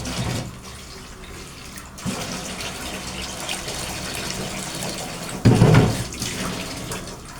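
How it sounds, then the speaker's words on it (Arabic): Tap water runs steadily into a cooking pot while preparing Egyptian lentil soup with rice, a continuous close hiss with a brief louder gush near the end. "هنحط له شويه ميه صغيره كمان."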